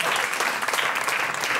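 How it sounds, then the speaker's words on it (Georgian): Applause from a studio audience at a comedy talk show fills the moment with dense, steady clapping. "აპლოდისმენტები ალბათ კატას"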